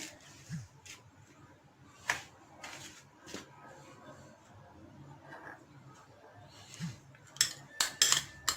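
Flour, salt and sugar for donut dough being stirred in a bowl, with sparse clinks and scrapes of a utensil against the bowl spread over a quiet background, a few sharper knocks near the end.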